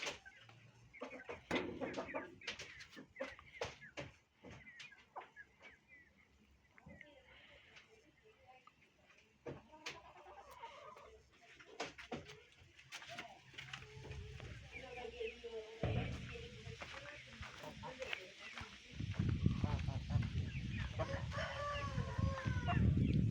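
A young hen clucks softly among rooster crows and other fowl on a farm, scattered calls over quiet outdoor sound, growing louder and busier toward the end, with a person talking at times.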